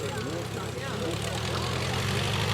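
A vintage Hanriot monoplane's engine drones at the Rhinebeck air show, a steady propeller buzz with wavering pitch heard at moderate distance, while people talk over it.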